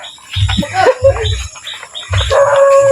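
Several dogs bark in short bursts at a moderate distance, with faint voices and outdoor noise in between.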